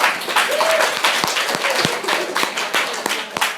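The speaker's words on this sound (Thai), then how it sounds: "ขอให้เราปรบมือต้อนรับนักเรียนใหม่ด้วยค่ะ" Classroom students clapping to welcome a new transfer student, a lively burst of applause from many hands nearby with sharp individual claps standing out and some voices mixed in.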